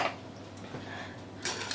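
A whisk stirs teriyaki sauce in a bowl, giving a soft, steady scraping swish that runs through the whole moment with a brighter burst near the end, and no voices.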